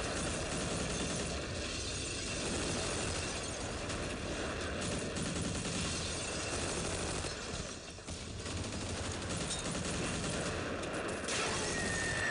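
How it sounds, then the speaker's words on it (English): Sustained battlefield din of artillery and gunfire in the Crete-set WWII strategy game Close Combat: Kreta, with dense crackling volleys and booms running steadily throughout, loud and continuous with a brief dip near the middle. "we're just gonna concentrate our artillery fire then"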